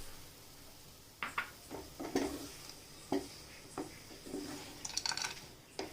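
A spoon scrapes and clinks in a pan while coconut halwa with fried nuts is stirred, giving quiet irregular strokes over a soft sizzle, close and gentle.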